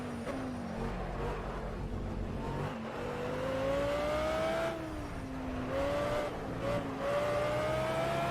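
An Audi R8 LMS race car driven in the video game Project Cars, its engine note rising and dropping through gear changes and braking. The sound runs continuously with no voice over it.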